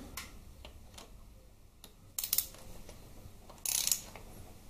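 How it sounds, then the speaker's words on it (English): A torque wrench clicks and ratchets while bolts are tightened on a Harley-Davidson Twin Cam 88 engine during a rebuild. Close, sparse metallic ticks are followed by two sharper bursts of clicking, with no voices. "set your torque wrench for 16. And then basically torque them up."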